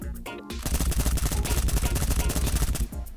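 Type 95 assault rifle fired in the battle royale game Knives Out, a sustained rapid automatic burst of shots lasting about two and a half seconds, loud and close after a brief lead-in.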